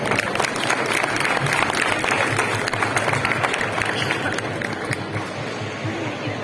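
Audience applause at a Gamoneu cheese auction after a winning bid, dense steady clapping from a crowd that carries on for several seconds and eases slightly toward the end.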